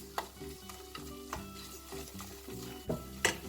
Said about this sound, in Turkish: Ve birlikte ikisinin kokusu çıkana kadar kavuracağım.